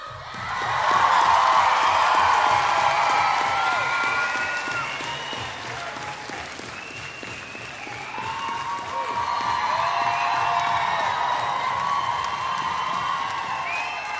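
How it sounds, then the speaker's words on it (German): A concert audience at a show in Hamm claps and cheers loudly, with whoops and shouts rising and falling in two long waves, dense and close throughout. "Das hier ist euer Applaus"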